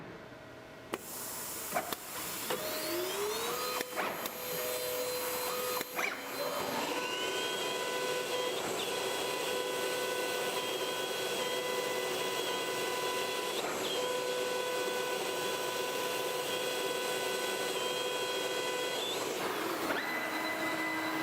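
A Kongsberg CNC router engraves a Rowmark plastic sheet with debris extraction running, a steady high spindle whine and vacuum rush holding loud and close, with brief pitch shifts as the cut starts and ends.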